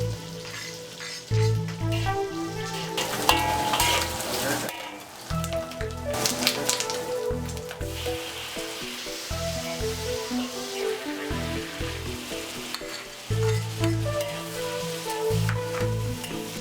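Vegetables such as eggplant and green beans, seasoned with salt and rock sugar, sizzle and crackle in a hot wok, with a loud, steady frying hiss punctuated by scraping and stirring clatter, close by and with no speech.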